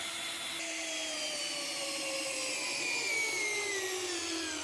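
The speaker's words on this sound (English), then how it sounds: "Big shout out to this drill" A cordless power drill, an old workshop tool used since before a first CNC machine build, runs steadily with a constant whine that slowly shifts in pitch, close and loud with no one talking.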